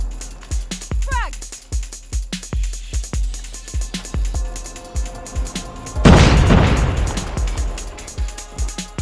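A frag grenade explosion in COD Mobile, a broad heavy blast about two thirds through a tight sequence of rapid game gunfire, loud and close, with a voice heard briefly.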